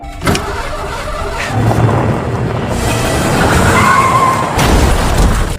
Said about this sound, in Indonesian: hingga akhirnya ia menabrak mobil Jian dengan sangat keras